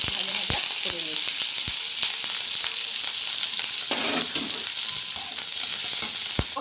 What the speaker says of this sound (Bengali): এবার পেঁয়াজ আর লঙ্কা একসাথে দিয়ে একটু ভাজা ভাজা করে নিচ্ছি।